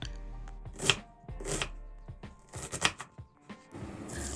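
An onion being chopped on a board, a run of sharp knife strikes in an uneven rhythm, close and fairly loud, with a hiss of sizzling near the end.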